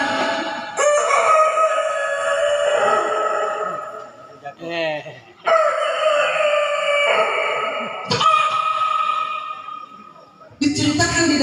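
A rooster crows at night, repeatedly, in several long drawn-out calls, while a voice speaks over and between them.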